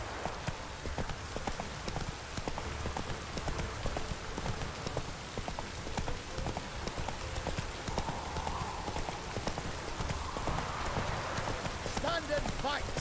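Horse galloping in the video game The Witcher 3, with rapid, steady hoofbeats running throughout under rain and voices speaking over it.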